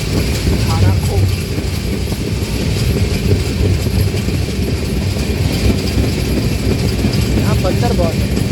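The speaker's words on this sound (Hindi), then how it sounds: "ट्रेन सतपुड़ा के जंगलों की खूबसूरती के बीच में बसे हुए ताराकोट रेलवे स्टेशन पर पहुंच गई है।" Train pulling into Taracot railway station amid the Satpura forests, a loud, steady rumble of rolling wagons and wheels on track with a few faint squeals, continuing throughout.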